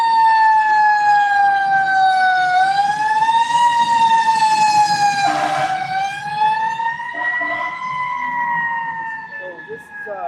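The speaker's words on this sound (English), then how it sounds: "Man, these sirens tonight going crazy." Emergency vehicle sirens wailing outside at night, a strong rising and falling tone that shifts pitch in slow sweeps, loud and steady throughout with faint background noise.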